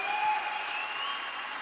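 Audience applause at the world premiere event of an autonomous robo taxi: continuous crowd clapping, even and sustained through the brief moment, with a steady tonal hum underneath.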